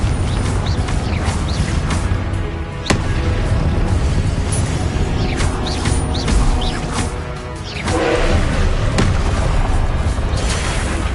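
Booming blasts from the Confringo blasting curse of Harry Potter, a series of loud explosive crashes and rumbling impacts that run back to back throughout, close and heavy.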